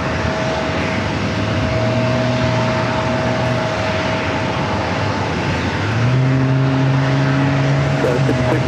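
A coaster-type aircraft flies past near San Diego airport runway 27, a steady broadband engine roar with a droning low tone that swells louder toward the end, close by and continuous with no talk.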